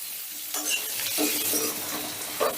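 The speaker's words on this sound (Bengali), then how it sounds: "অল্প একটু নুন দিয়ে আলুগুলোকে বেশ লাল লাল করে ভেজে তুলে নেব গ্যাসের আঁচটা কিন্তু এখন হাইতেই রেখেছি" Potatoes frying in mustard oil over a high gas flame, a bright continuous sizzle broken by a few spatula stirs and light clinks against the pan, close up and without speech.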